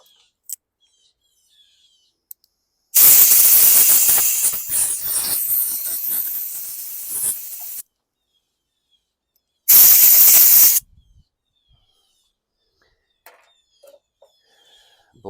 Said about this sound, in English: I'll just blast this crappy gas out of here with some compressed air.